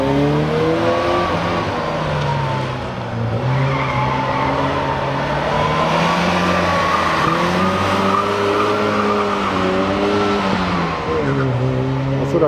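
Race car making a high-revving start with tire squeal, its engine pitch climbing and falling through gear changes over sustained screeching tires, loud and close throughout.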